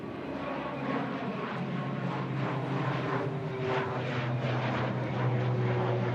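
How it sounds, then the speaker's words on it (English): An Aer Lingus regional airliner departs Manchester Airport for Dublin, its engines giving a steady, moderately distant roar that swells slightly toward the end, with no talk over it. "There goes that Aer Lingus regional, heading back to Dublin"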